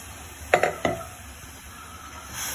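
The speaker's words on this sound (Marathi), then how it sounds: "आता आपण पाणी ऍड करूया" Water added to roasted masala in a hot pan for a Goan mackerel curry gives a few sharp splashing hits of sizzle in quick succession, then settles to a faint low simmer, close by.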